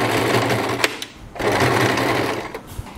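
A sewing machine stitches hair wefts onto a wig cap in quick whirring bursts, loud and close, with a short pause partway through and a few small clicks near the end.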